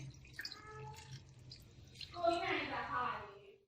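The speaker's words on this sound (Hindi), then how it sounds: "और अब इसे पानी से भिगो दे रही हूँ।" Water is poured over poha (flattened rice) to soak it for kanda poha in a home kitchen, a steady splashing rush in the second half following someone talking.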